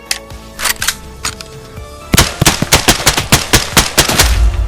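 Rapid gunfire in the shooter game Escape from Tarkov: a few scattered shots, then a fast burst of about a dozen sharp cracks at a steady rhythm, loud and close, ending in a low rumble, with no talking.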